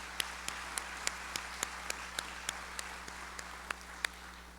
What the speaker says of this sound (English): one more round of applause for our students, please